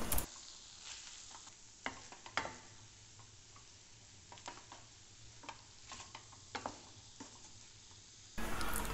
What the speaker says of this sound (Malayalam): ഇനി നമ്മൾ ഇത് നന്നായിട്ട് ഉടച്ച് ചേർക്കാൻ പോവാണ് കേട്ടോ